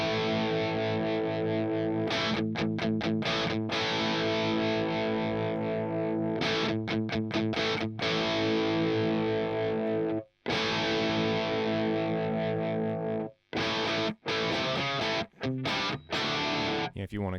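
Distorted electric guitar played through a Fractal AX8 with power amp simulation and transformer match adjusted, loud sustained chords and riffs with brief choppy stops and gaps, alone without talk.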